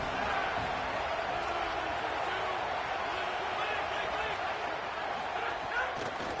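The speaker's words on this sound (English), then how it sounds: "This Boise State crowd bringing the noise. It's deafening here on 3rd down." A loud, steady roar from a Boise State home stadium crowd on third down in an NCAA college football video game, sustained noise with no breaks or lulls throughout.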